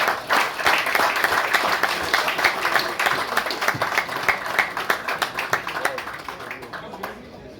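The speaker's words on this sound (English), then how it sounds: "I think we can have better round of applause, yeah?" Lively applause from a snooker tournament crowd for a woman player, many hands clapping in a rapid rattle that gradually thins and fades toward the end, with some talk mixed in.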